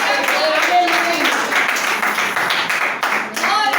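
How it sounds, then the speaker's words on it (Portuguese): A church congregation claps along in lively praise, a steady dense patter of many hands filling the room, with voices mixed in underneath. "Podeis sentar e exaltar o Senhor com as palmas bem alegre"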